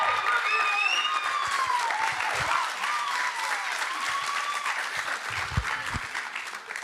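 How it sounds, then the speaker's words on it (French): An audience applauds to welcome a contestant at a thesis-presentation contest: sustained, thick clapping with a few whistles and cheers at the start, steady and loud before easing slightly toward the end. "merci de faire un tonnerre d'applaudissements"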